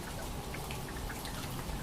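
Light drizzle of raindrops falling steadily, a soft continuous patter with scattered drips, faint and even throughout with no voices.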